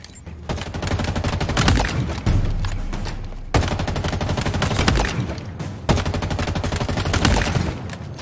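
Automatic weapon fire on the Halo Infinite Academy training range with live rounds: loud, continuous rapid-fire bursts in long strings, with brief breaks between them and no talking.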